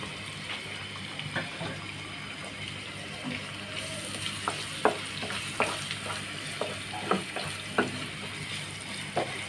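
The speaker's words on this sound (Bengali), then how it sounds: "আমরা পেঁয়াজটা একটু লাল করছি" Onions frying in a pan, a steady soft sizzle broken by scattered clicks and scrapes of stirring, fairly quiet and close, with no talking over it.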